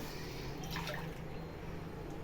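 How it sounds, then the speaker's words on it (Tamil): Water poured onto jaggery in a pot to make syrup for adhirasam, a quiet, brief liquid splash and trickle heard alone. "இப்போ அதுக்கு தேவையான தண்ணி ஊற்றி பாகு ரெடி பண்ண போகிறோம்"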